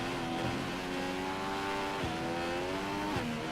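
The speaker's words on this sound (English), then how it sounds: "Here we go into the pits." F1 2015 video game race car driving into the pits, a steady high-pitched engine whine with gear shifts, moderately quiet and continuous, no voices.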